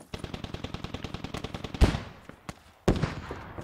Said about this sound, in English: the BTR is fucking shooting the other BTR